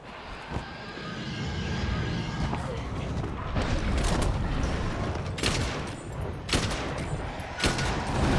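Weapon fire in Monster Hunter World rings out amid a loud, dense wash of game action, with several sharp blasts and booms spread across the clip.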